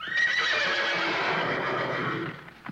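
A horse whinnies in a long, loud, quavering neigh that holds for over two seconds before tapering off, heard alone without any talk.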